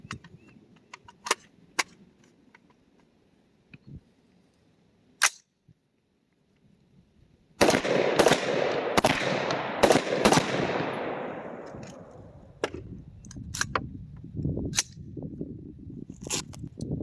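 Gunshots at a shooting range from a rifle fed by magazines, a few scattered single sharp cracks and then a quick burst of loud, closely spaced shots with ringing echo and trailing clatter.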